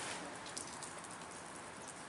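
Rain falling steadily, a faint continuous patter and hiss with scattered drops, no voices.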